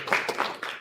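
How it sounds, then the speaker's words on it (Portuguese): An audience claps and applauds at a children's church gathering. The applause is a short, moderately loud patter of hands with a faint voice underneath. "Vamos dar uma salva de palmas para Jesus"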